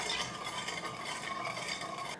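Sugar syrup simmers in a pot while being stirred continuously, giving a steady bubbling hiss and soft scraping against the pot, heard close and without talking.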